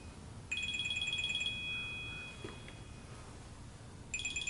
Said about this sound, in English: And somebody is calling.